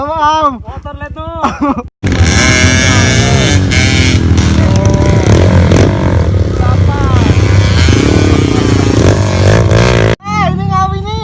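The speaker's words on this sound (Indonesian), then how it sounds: "Motor lihat tuh." A dirt bike engine, KLX or CRF, revs hard and loud on a trail for several seconds, a sustained buzzing roar with rising and falling pitch, preceded and followed by people talking.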